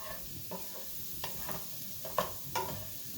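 Salmon sautéing in a pan toward a golden, crisp finish gives a steady soft sizzle, broken by a few brief scraping stirs near the end, with no talking.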